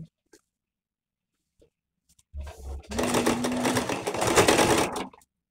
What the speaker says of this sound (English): Now sew on it like this.